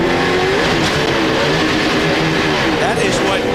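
Sterling Marlin's No. 40 NASCAR stock car roars at full throttle at Kansas during the 2004 Banquet 400 as its drivetrain fails and the engine blows up. The engine noise is loud and constant, with race commentary running over it.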